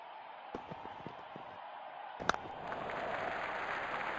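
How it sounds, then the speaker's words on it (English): Crowd noise from a Real Cricket 20 match between Australia and South Africa at the 2023 World Cup, scattered claps building into a steady roar of applause and cheering, moderately loud and continuous. "Crowd going mad here."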